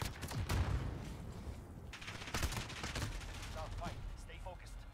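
Call of Duty Modern Warfare multiplayer gunfire, a string of sharp shots and short bursts, some loud and close, others lighter, spread across the span with brief gaps between them.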